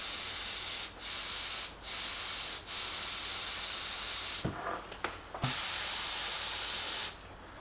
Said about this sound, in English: And then mist over it, just to give you that extra detail.